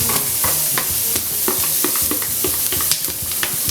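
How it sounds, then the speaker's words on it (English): Holy trinity vegetables hit a hot roux for shrimp étouffée and sizzle loudly and steadily up close, with repeated scraping and clacking as a spoon stirs them through the pot. "now we're getting ready to put this Trinity in here to this roux"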